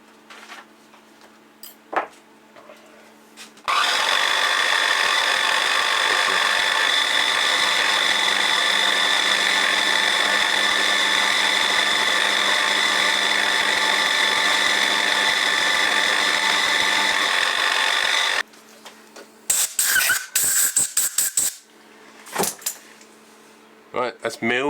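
A milling machine runs a 12mm cutter across cylinder ports, cutting down to a set depth. The loud, steady broadband machining noise starts abruptly, holds for about fifteen seconds, then stops, followed by short clanks and handling sounds.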